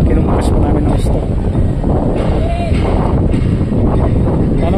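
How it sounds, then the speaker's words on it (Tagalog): Strong wind at Dangay Roxas Port buffets the microphone in a loud, continuous roar with gusty rumble throughout, while a voice talks faintly beneath it. "Masyadong malakas na yung hangin."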